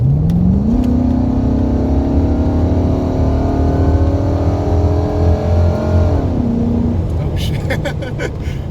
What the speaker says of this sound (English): So let me get a wide open throttle, right?